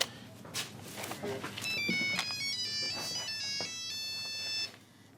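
A mobile phone rings with a bright electronic melody of repeating tones for a few seconds inside a Jordanian trucker's setting, over faint background shuffling.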